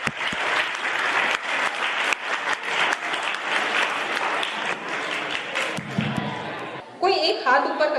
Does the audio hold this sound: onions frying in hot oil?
no